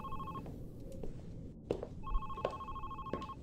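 A phone in a horror video game about Alzheimer's disease rings faintly in repeated electronic bursts over a muffled, rumbling background with occasional clicks.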